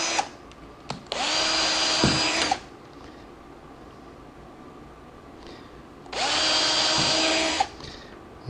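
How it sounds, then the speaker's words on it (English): A cordless drill drills out a door during replacement, whirring loudly in two bursts, a short one followed by a longer run, with a pause of quiet between them. "So we're going to drill these out."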